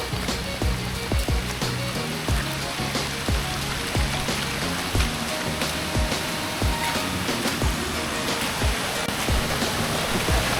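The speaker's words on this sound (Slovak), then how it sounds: "Kamenný potok alebo Suoi Ja s veľmi čistou a chladnou vodou" Clear, cold water rushing over rocks in Suoi Ja stone creek near Da Nang, a steady broadband roar with small splashes and gurgles throughout, close and continuous with no voices.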